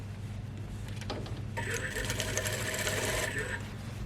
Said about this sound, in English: And now we're sewing around the back neckline.